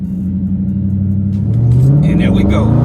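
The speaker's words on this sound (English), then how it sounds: "we about to go ahead and rev this thing up a little bit to about 1500 with our foot on the brake" A Dodge Challenger R/T with a 5.7 V8 revs on the brake before a launch, a loud steady engine rumble climbing in pitch partway through, with someone talking over it.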